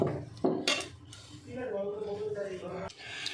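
A spoon clinks and scrapes against a bowl while flour is mixed into sticky sweet potato jalebi dough, a few sharp taps followed by softer scraping, close and quiet, with someone talking over it.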